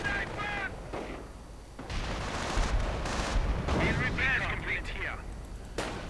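A war strategy video game gives off heavy, continuous gunfire and artillery, booming and crackling across the battlefield, while a commentator talks over it.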